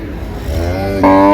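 A dairy cow at a cattle market lets out a short, loud low moo that rises and swells near the end, heard close over a murmuring crowd.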